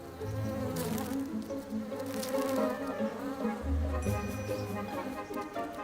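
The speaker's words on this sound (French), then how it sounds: "Les abeilles vont et viennent, toujours occupées." Honeybees buzz around their hive beside a shrinking river in drought, a steady close drone that holds without pause through the whole stretch.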